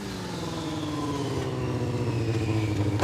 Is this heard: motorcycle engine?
yes